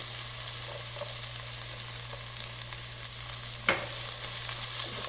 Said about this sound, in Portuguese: Agora aqui eu vou dar uma fritada, mas não posso deixar queimar, somente para dar uma dourada na cebola e no alho.